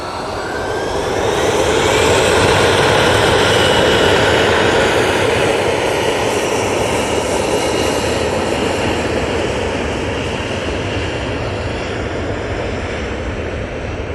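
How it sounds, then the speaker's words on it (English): An Embraer E175 regional jet at Manchester Airport roars loudly and steadily for the whole stretch, a broad engine rush with a rising whine that swells early and then holds with no voices. "Lovely little Embraer E175."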